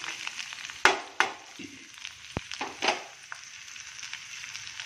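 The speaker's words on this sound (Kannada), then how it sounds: "ತರಕಾರಿಗಳು ಒಗ್ಗರಣೆಯಲ್ಲಿ" Oil sizzles steadily with a soft frying hiss as vegetables fry in a tempering with fennel seeds and salt, broken by a few sharp clanks and scrapes of a spoon stirring in the pan.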